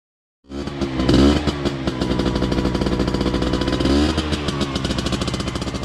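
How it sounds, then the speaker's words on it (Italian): A Piaggio Ape motorized three-wheeler starts up loudly and pulls away, its small engine buzzing and rattling, revving up twice before settling into a steady, chattering drone. "Ed eccolo qua che si allontana su una moto ape"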